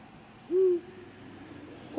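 Owl in the video game D4 giving a single short hoot after being poked, fairly loud and close over a quiet background, followed by a brief higher note at the very end.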